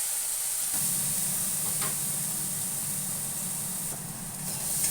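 White cumin seeds and onion paste sizzle in hot oil for a Bengali whole lote fish dish, giving a loud, continuous bright hiss with a low bubbling rumble underneath; no one speaks.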